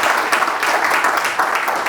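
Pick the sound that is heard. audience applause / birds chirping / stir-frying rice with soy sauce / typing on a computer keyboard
audience applause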